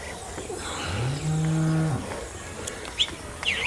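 A two-toothed dairy cow, four months pregnant and kept with a bull calf, gives one long, close moo lasting about a second over quiet outdoor background, followed by faint bird chirps.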